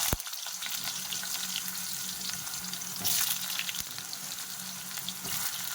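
Potatoes fry in mustard oil in a wok, a steady close hiss of sizzling with a brief louder crackling flare midway over a faint low hum, with no talking.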